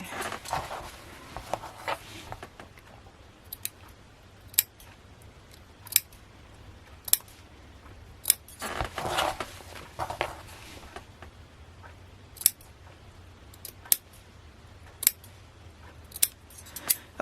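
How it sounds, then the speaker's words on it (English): Scissors snip through fabric while planner corners are trimmed near the stitching, a run of crisp, close, isolated cuts spaced every second or two, with soft handling rustle between them. "our corners are all cut and snipped"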